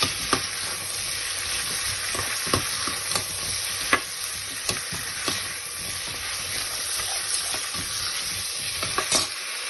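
Pan of frying food for fresh vegetable soup crackles and sizzles steadily with a bright hiss, broken by sharp clicks and pops of stirring and potato pieces being dropped in, no voices.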